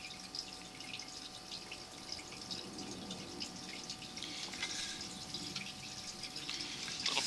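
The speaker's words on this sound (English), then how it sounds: "Bit of that water is going beyond that point here. This is trickling past." Water trickling past a break in the bottom of a buried sewer pipe, captured by an inspection camera about 38 feet in: a faint, steady watery trickle with light drips and a low hum, no voices.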